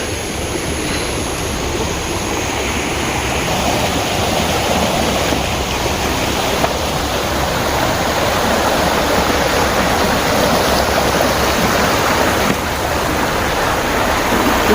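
A river rushes past a trail crossing, filling the scene with a loud, steady broadband roar of flowing water that never lets up, with no voices over it.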